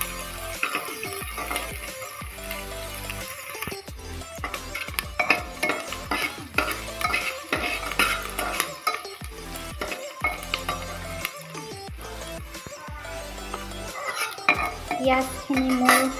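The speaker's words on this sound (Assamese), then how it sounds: "পিঁয়াজখিনি অকমান ৰঙা কৰি ভাজি ল'ম" Onions for a jackfruit curry are stir-fried in a pan until reddish. A spoon scrapes and clatters rhythmically against the metal over a low, steady sizzle, close and busy throughout.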